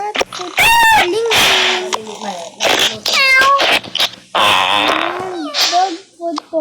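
Cartoon cats in a Toca Boca video game meow loudly at feeding time. Several bright, wavering meows come in quick bursts close up, mixed with other playful game noises.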